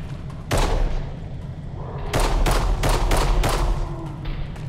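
Gunfire in a zombie survival video game, a single shot followed by a rapid string of several loud blasts, close and punchy over a low background rumble.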